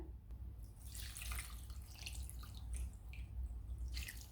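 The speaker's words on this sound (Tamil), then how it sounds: "மீதம் 4 டம்ளர் அளவு தண்ணி சேர்த்துருக்கேன்" Water pours steadily into a cooking pot of foxtail millet already seasoned with cumin and turmeric, giving a continuous close splashing and trickling that runs the whole time with no talking.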